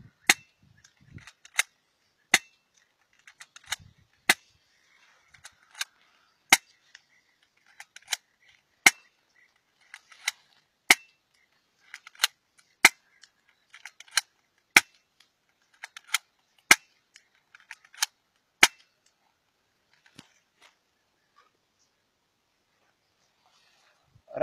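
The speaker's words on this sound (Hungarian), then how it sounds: "Hátrahúzzuk, lövünk." An airsoft toy gun being cocked and fired again and again, sharp dry snapping shots spaced a second or two apart with softer clicks of the slide between them, close and otherwise quiet.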